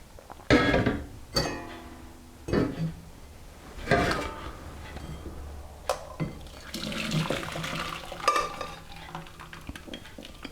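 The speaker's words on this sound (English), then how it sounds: "what we need to do now is strain the water" Cooked celery water is poured through a strainer into a bowl in a kitchen, giving repeated splashing pours and clanks of cookware in close, uneven bursts.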